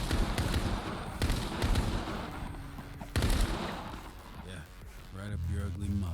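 Rapid gunfire bursts from a VR shooter game, loud crackling volleys in the first half, then quieter synthetic tones with a voice talking over the game audio.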